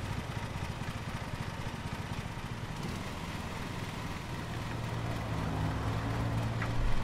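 A lawn mower engine in Lawn Mowing Simulator drones steadily throughout, a close, continuous mid-pitched hum that swells a little louder toward the end, with no voices over it.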